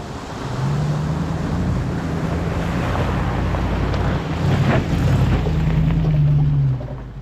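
A vehicle, apparently a motorcycle on a scenic route, fords a flood-prone creek crossing, with a steady rush of splashing water and engine drone under heavy wind buffeting for several seconds.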